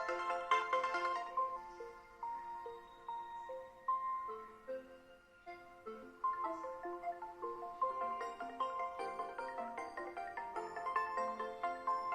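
OPPO F17 Pro ringtone playing alone, a clean electronic melody of bright plucked tones in steady rhythmic phrases, pausing briefly before resuming and growing busier.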